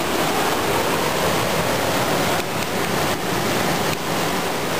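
A river flows with a dense, steady rush of water close by and at constant loudness, with a few brief dips and no talk over it.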